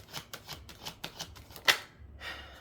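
Tarot cards being shuffled in quick repeated riffles, a soft rhythmic flutter with one sharper snap, close and fairly quiet, no voices.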